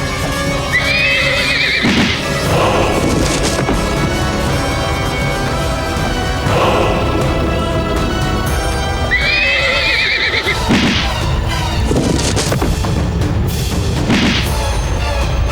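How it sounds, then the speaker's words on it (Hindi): A horse on a battle scene set neighs loudly twice with shrill whinnies. Heavy hoofbeats, clatter and dense action noise carry on throughout. "खत्म कर दो इस पागल घोड़े को।"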